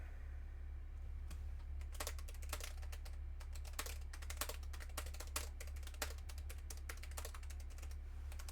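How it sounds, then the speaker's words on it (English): Keys clatter on a computer keyboard in quick irregular bursts, close and fairly faint, over a low steady hum with no talk. "I'm typing right now."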